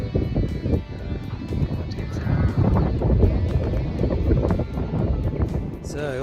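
Blustery, cold wind sweeps across a beach campsite in Cervantes, roaring and buffeting the microphone in continuous heavy gusts from start to finish.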